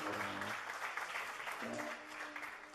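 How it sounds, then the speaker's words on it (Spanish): A church congregation claps along during a Spanish-language service while a voice speaks over the steady, moderately loud applause, with a brief lull in the middle. "Aplauda el nombre del Señor, aplauda el nombre del Señor."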